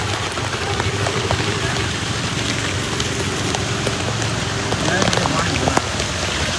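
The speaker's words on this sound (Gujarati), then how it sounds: "આપણે દ્વારકાની વરસાદની મોજ લઈએ" Heavy rain pours over the town of Dwarka in a constant, loud, close hiss of drops hitting surfaces, with faint voices in the background.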